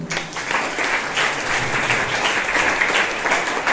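An audience at a school biology quiz claps for a finalist, a dense, steady round of applause from many hands that carries on without pause, with no voices over it.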